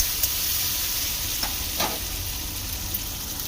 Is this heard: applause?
no